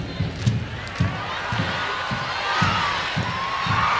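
Stadium crowd at a USA v Mexico women's international friendly football match, a steady roar with swelling cheers and a rhythmic beat of claps or drums, commentators talking over it.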